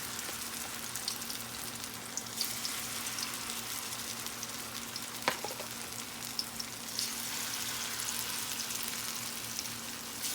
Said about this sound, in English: So I'm going to just fry some little piles of yummy.